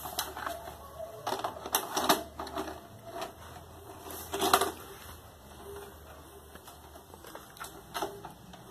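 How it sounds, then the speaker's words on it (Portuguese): A video tape goes into a Cineral VCR4600 player, giving a run of mechanical clicks and clunks from the loading mechanism over a steady hum, close and moderately quiet. "E a gente vai colocar aqui uma fita de vídeo."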